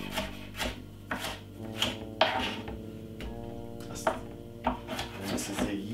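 Knife chopping green and yellow peppers on a cutting board, with a series of sharp, evenly spaced chops standing out above steady background music.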